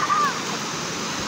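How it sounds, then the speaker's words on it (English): Flowing water at a spot where children play, heard as a steady rushing wash with a brief brighter splash at the start. "just to touch the water that's flowing"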